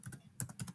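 A few quick keystrokes tapped on a computer keyboard, faint and close, in two short clicking bursts.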